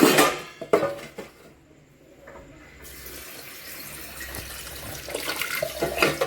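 A tap runs into a sink while a few cooking pots are scrubbed and washed. It opens with loud clattering bursts, eases into quieter running water, then builds again with more scrubbing and splashing. Nobody speaks.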